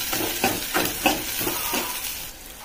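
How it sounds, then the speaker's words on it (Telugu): Chili powder being stirred into a pan of frying onions, with a steady sizzle and several scraping strokes of the spoon, close up. "కారం బాగా కలుపుకోవాలి, బాగా కలిసేలాగా."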